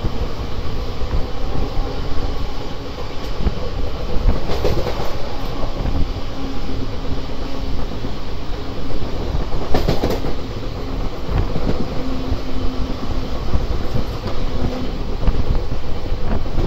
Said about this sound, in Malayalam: ബെഗംപേട്ട് റെയിൽവേ സ്റ്റേഷനിൽ നമ്മുടെ ട്രെയിൻ എത്തിയിരിക്കുകയാണ്